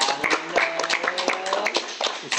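A few people clapping hands in a casual talk-show setting, sparse, irregular claps close to the microphone over a steady tonal background hum, with a brief voice in between.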